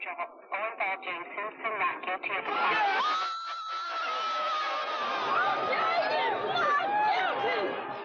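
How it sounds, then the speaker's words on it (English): A jubilant crowd outside a Los Angeles courthouse yells and cheers, first choppy shouts, then a sustained loud roar with high screaming voices blending together. "Here the crowd is mostly jubilant."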